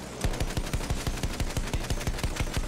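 Anti-aircraft guns in Battlefield 1 pound out a steady, evenly spaced rapid string of heavy thumping shots, about five per second, loud and close with a rumbling background.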